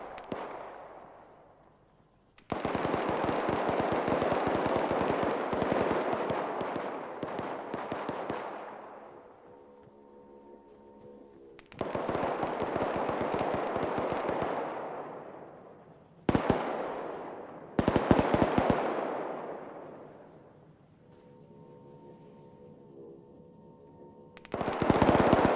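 Gunfire in the military video game Arma 3 crackles in long rapid automatic bursts separated by short quiet gaps, loud and close, with a faint electronic tone lingering between volleys.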